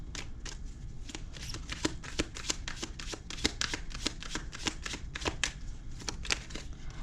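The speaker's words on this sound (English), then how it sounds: "let's go ahead and get some clarifying cards for JT." Tarot cards being shuffled at close range in a steady run of quick riffling bursts, each crisp flutter following the last for several seconds with no talking.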